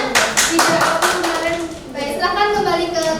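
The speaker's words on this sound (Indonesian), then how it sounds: "Tepuk tangan." Students in a classroom clap together in a burst of quick, rhythmic claps. Someone speaks over the clapping as it fades.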